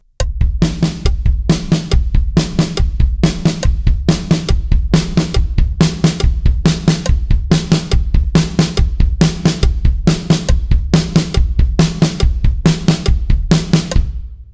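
A drum fill played on the snare drum alone, with fast, evenly spaced strokes in a steady driving rhythm, loud and close, with low bass-drum thumps underneath and no voices.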